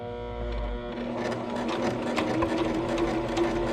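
Sewing machine runs a steady, close whirring stitch along the seam of a fabric dog bandanna, starting from a short pause and continuing evenly at moderate volume with no talking.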